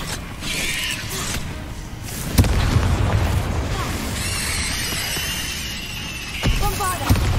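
A Bombarda spell in Hogwarts Legacy detonates with a sudden booming blast, followed by a rumbling crash and debris, then a second burst near the end, loud and up close over game ambience and a voice.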